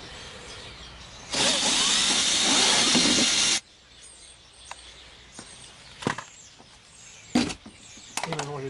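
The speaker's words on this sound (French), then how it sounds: "Je vais préparer le trou. Toujours avec la scie cloche pour amorcer." A hole saw drills loudly through a plastic planter for about two seconds, a harsh grinding whine that cuts off abruptly, followed by scattered clicks and knocks.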